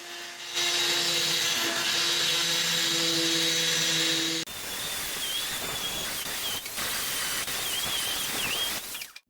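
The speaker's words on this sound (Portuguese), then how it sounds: "E para remover esses dentes, eu vou usar uma lima rotativa" A rotary file grinds the teeth off a pinion while fitting a motor to a sugarcane mill, giving a steady high whine and hiss with a tonal hum, its pitch shifting partway through as the cut changes.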